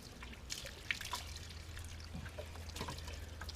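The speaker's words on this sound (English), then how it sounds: "I've got my watering can. I'll just rinse" Water from a watering can poured over the wheels of a 1995 BMW E36 318i, a steady close trickle and splash that holds for the whole stretch at a soft level, with no talking.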